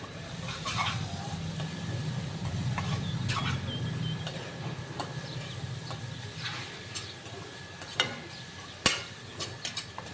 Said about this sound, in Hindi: सभी मसालों को मैंने अच्छे से भून लिया है इनके साथ में